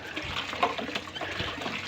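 Flowing river water in Sariaya, Quezon, a continuous close rushing and gurgling stream with small splashes, steady and fairly loud, with no talking.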